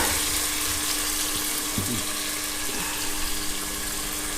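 Onions frying in a pan until they brown for mutton biryani give a steady, close, broadband sizzle that runs unbroken throughout, with no talking over it.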